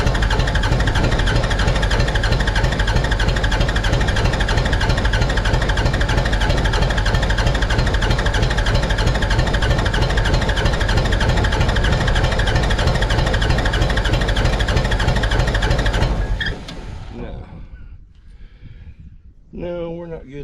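A Mitsubishi BD2F dozer's diesel engine, revived after sitting for years, runs with a loud steady chugging rumble for most of the clip, then cuts out abruptly, leaving quieter sounds and a voice at the end.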